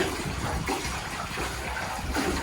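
A hand-cranked device churns water in a fish pond, a continuous close splashing and gushing rush that keeps an uneven, turbulent texture for the whole stretch, with no voices.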